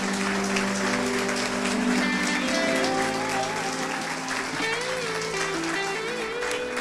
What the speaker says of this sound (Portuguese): E aplauda ao Senhor